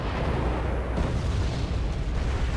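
Artillery fire and explosions rumble continuously in the Wargame multiplayer video game, a dense, loud, booming wash with no clear gaps.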